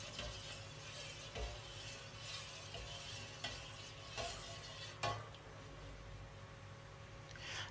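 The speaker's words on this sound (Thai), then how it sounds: "จากนั้นเราก็จะใช้ทัพพีนะครับคนให้ส่วนผสมที่ใส่ไปเมื่อกี้ละลายเข้ากันนะ" A ladle stirs a pot of water and added ingredients in a kitchen, giving faint, soft scraping and occasional light clinks against the metal, heard quietly and up close.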